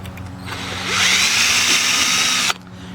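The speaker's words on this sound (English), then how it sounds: "then you come in with the drill" A power drill bores through a Telecaster guitar body to fit a jack plate, the motor whining up to a loud, steady grinding cut for about a second and a half before stopping abruptly, close up.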